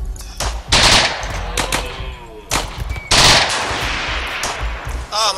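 Rapid video game gunfire, machine-gun bursts and single shots cracking in several loud clusters with short gaps, close and dominant, with a voice briefly underneath.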